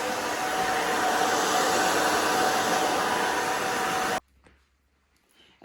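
Hair dryer blowing steadily on thick hair styled into a pixie cut with mousse and root lifter, a loud continuous roar close by for about four seconds before cutting off into near silence.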